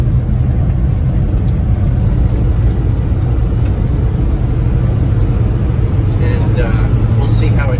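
A 1991 Honda 4x4 Japanese mini truck drives along on good tires, its small engine giving a steady, close, continuous rumble with no break through the whole stretch.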